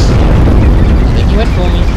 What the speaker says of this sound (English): Someone's around because they're chucking grenades at me